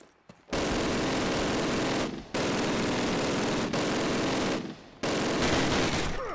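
Sustained automatic gunfire in the Call of Duty (2003) video game, loud close bursts of rapid shots lasting a couple of seconds each, broken by brief pauses, with no talking.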